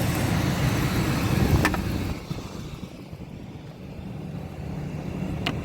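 A truck drives along on a test drive with a steady low engine rumble and road noise, easing slightly midway before building again, heard from inside and close.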